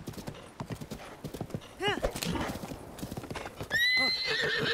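Horse hooves clip-clop steadily while a horse neighs twice, the second whinny long and loud, with a voice talking underneath, in The Legend of Zelda: Breath of the Wild.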